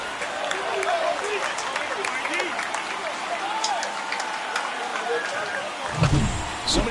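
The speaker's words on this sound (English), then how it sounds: "This crowd is on fire right now. They're going nuts thanks to that home run." Stadium crowd in the MLB The Show 24 baseball video game roaring after a home run, a sustained dense wash of cheering and applause throughout, with a louder burst near the end.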